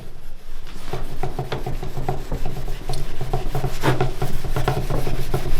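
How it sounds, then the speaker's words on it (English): Steady rasping rub of a surface being scrubbed flat to lift off grime, with a continuous close scrubbing texture and short repeated strokes throughout. "I'm gonna just lay this flat so I can get a little bit better scrubbing power here."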